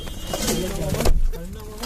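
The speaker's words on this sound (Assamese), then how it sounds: "পাৰবা বোলে" Pigeons coo in low, soft repeated calls at a riverside picnic spot on the Brahmaputra bank, with people talking over them throughout and a brief louder rumble midway.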